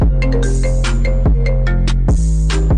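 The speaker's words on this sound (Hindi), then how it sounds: "आपका फोन बज रहा है।" A phone ringtone plays loud and close, a bright synthesized melody of repeated tonal notes that restarts in regular phrases about every second, with no other sound around it.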